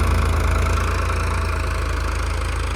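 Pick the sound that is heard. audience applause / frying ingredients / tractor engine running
tractor engine running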